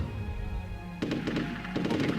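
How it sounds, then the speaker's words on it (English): Gunfire from artillery and guns in the World War II real-time strategy game Rise of Nations, a cluster of sharp bursts breaking in after a quiet second, with several quick shots and a second volley near the end over game ambience. "We're opening fire on the city."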